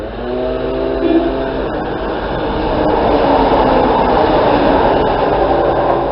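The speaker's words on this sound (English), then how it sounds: "We have a fast train" A fast Class 170 diesel unit running from Shrewsbury to Birmingham New Street passes through a station platform, a loud sustained rumbling roar that builds steadily as it approaches and rushes by, heard alone.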